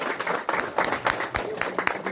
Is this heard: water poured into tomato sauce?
no